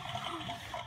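Toy toilet flush effect from a Little People home playset, a short, soft watery gushing sound heard close up without any voices.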